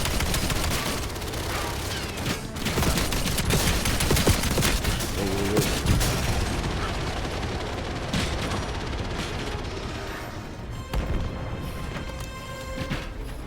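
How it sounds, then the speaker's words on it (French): Shotgun fire during the final Confinement mission of the video game Black Ops 7: a loud, dense stretch of blasts and rapid gunfire with crashing impacts, continuing almost without pause. "Ah, c'est un fusil à pompe en fait au final."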